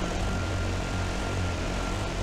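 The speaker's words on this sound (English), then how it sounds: "wasn't looking at my helicopter trying to nose dive down onto us" A helicopter roars loudly and continuously overhead during a quad rally stage in the desert video game Dakar Desert Rally, a dense rotor and engine drone with no break.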